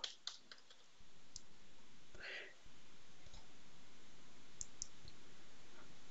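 A computer mouse clicks a few times, sharp and close, over a faint steady hiss, with brief soft sounds from someone nearby.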